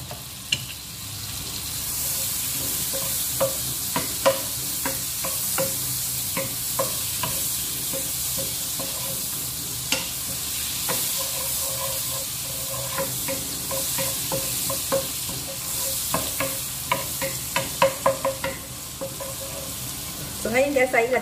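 Chopped onion sautés in butter in a pan, a continuous bright sizzle with frequent spoon scrapes and clinks, close and steady throughout.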